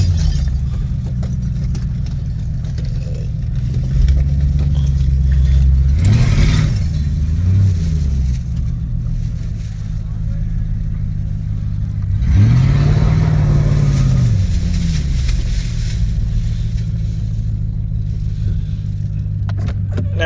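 A 1986 Lincoln Town Car on the move, its V8 engine droning steadily from inside the car, rising twice in brief swells of acceleration before settling back to a cruising hum.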